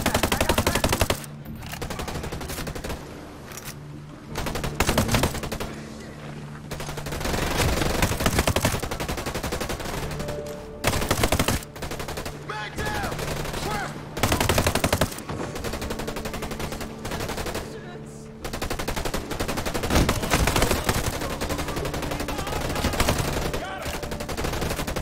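Rifle fire in the video game Ghost Recon Breakpoint, repeated loud bursts of automatic shots in rapid volleys separated by short pauses, close and harsh over a low background hum.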